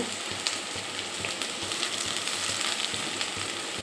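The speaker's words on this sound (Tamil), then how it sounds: "எல்லாம் ஒன்றா போட்டு நல்லா வதக்குங்க" Soft, continuous frying sizzle of chopped onions and garlic sautéing together in a pan, fairly quiet, with faint scattered crackles and an occasional light clink near the end.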